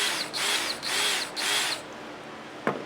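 A Dewalt 20V brushless drill whirs loudly in three short, evenly spaced bursts, each about half a second long. A single sharp click follows after a brief pause.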